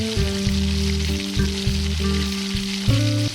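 Balls of potato and onion fry in hot oil in a pan over a medium flame, giving a continuous, even sizzle that sits under a prominent bed of background music, with no talking.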